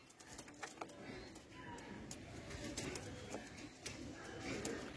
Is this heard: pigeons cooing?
yes